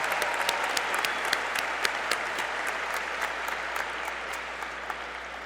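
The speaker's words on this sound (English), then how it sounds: "Please give them a round of applause" Steady applause from a large graduation crowd honoring school administration and staff at a high school commencement ceremony, dense continuous clapping at an even level throughout with no speech.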